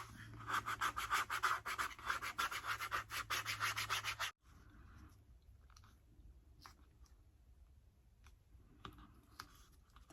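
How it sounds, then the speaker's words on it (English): A soft sign squeegee rubs steadily back and forth over a sign in a fast, scratchy rhythm for about four seconds, then stops, leaving faint clicks and handling noises. "a squeegee like this, so this is a soft squeegee. It's not, it's meant for signs."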